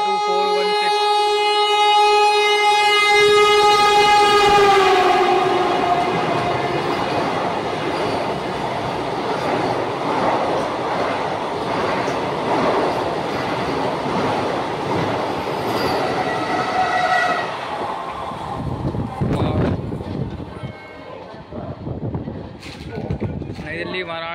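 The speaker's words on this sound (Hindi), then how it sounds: "गोमती एक्सप्रेस खड़ी हुई है और ये आ गई, सॉरी वंदे भारत एक्सप्रेस" Vande Bharat Express 22416 races through Etawah Junction, overtaking the standing Gomti Express. A loud horn at the start leads into a long, close roar of rushing coaches with wheel squeal and clatter, which fades toward the end.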